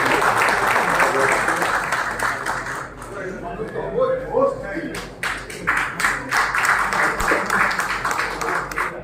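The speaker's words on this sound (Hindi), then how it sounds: "जोरदार तालियां बंद करें।" Applause rises from a gathering at a political meeting in Bankipur as a guest is invited up, a dense burst of clapping at first, then scattered claps mixed with voices and background chatter.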